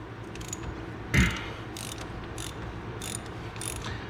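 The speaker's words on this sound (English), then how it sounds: "You can see the wrench moving around." Ratchet wrench turning a worn bolt on a Jeep Liberty CRD wheel hub, a loud clack near the start followed by a series of lighter evenly spaced ratcheting clicks over a low background hum, no speech.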